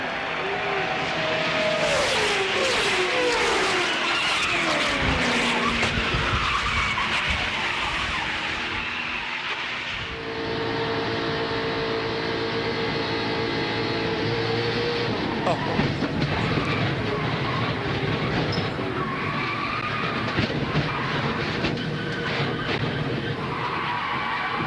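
NASCAR stock cars spinning and crashing on track: continuous roaring engines with screeching, skidding tires and scraping impacts, loud and sustained throughout, a harsh shift midway as the racing noise changes character.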